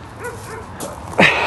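A dog recovering from tumor treatment at a shelter gives soft whimpering yips followed by a single sharper bark, close by and brief.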